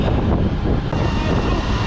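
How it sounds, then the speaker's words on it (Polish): Strong wind buffeting the microphone at a construction site during concrete pouring, in a continuous loud roar, dense and rumbling throughout with no pauses. "Ale wiatr jest konkretny."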